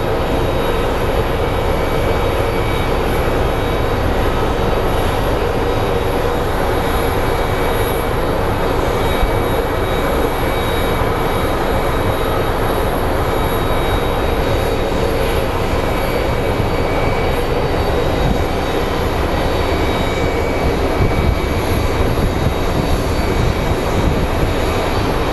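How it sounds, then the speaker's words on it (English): A Southwest airliner landing at Phoenix Sky Harbor airport, heard as a loud, continuous engine roar and rumble that stays steady for the whole stretch, with no voices over it. "So let's get the Southwest landing"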